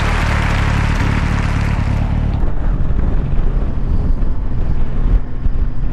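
Kawasaki Ninja 1000 SX motorcycle on the move, with a steady low engine drone buried under loud, continuous wind rush across the microphone, a brighter gust-like hiss in the first two seconds.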